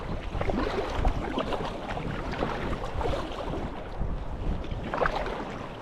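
A boat rides sea swells on the Scottish coast, a constant loud rush of water and wind buffeting the microphone, with no pauses and no voices.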